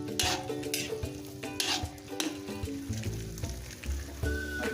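Pancit bato noodles being sauteed and stirred in a pan with black pepper, with steady sizzling and scraping strokes of a utensil against the metal, close and fairly loud.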